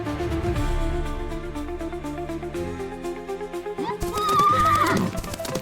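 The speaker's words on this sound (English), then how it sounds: "I woke up to the sound of galloping horses" Horses neigh and whinny loudly over a dense musical score in the Western video game Dust & Courage, with clip-clop hoofbeats of a galloping herd running beneath, a sharp whinny rising near the end.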